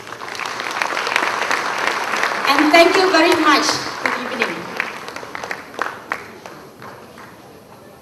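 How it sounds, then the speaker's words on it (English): Audience applause at a real estate awards ceremony, a crowd clapping warmly behind a voice speaking into a microphone, then fading to a few scattered claps. "Give yourself a round of applause."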